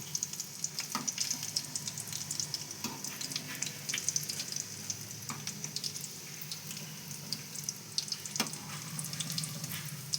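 Badusha sweets made from maida fry in hot oil, a continuous soft sizzle with occasional scrapes and clinks as the pieces are turned, steady and fairly quiet with no voices.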